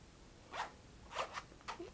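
Quick, raspy zipper pulls on a luxury beauty case with a little red-bottomed zipper, four short strokes in a quiet room, close and fairly soft.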